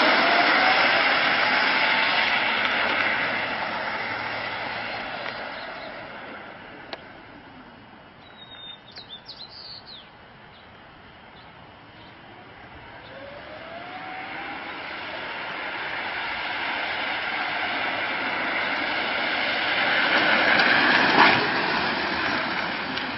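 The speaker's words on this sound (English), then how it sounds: "I'm going to show the cart's acceleration with the boost button" A homemade electric go kart with motor, sprocket and chain drive accelerates from a standstill on its boost button, a rising whine that swells and fades as it passes, then climbs loud again near the end.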